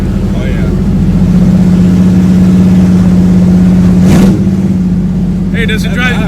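A car whose leaky fuel filter has just been replaced is driven on the road, with a loud, steady engine drone and road noise heard close from inside the cabin.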